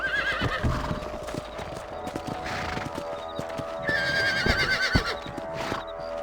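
Horses trot with steady clip-clop hoofbeats in the Red Dead Redemption video game, joined by a couple of whinnies over a faint game score, with no voices.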